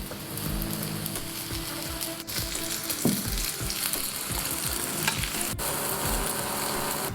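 Eggplant masala simmers and sizzles in a pan on the stove, a dense, continuous close crackle and bubbling with a few faint clinks.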